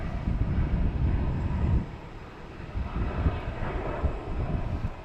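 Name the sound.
airplane taking off at Boston Logan Airport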